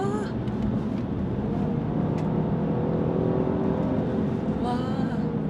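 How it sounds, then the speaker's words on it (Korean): A car's exhaust note swells as it accelerates hard in Sport Plus mode with a nine-speed transmission, a loud, continuous engine roar heard from inside the cabin with brief talk over it. "배기음도 더 멋있구나."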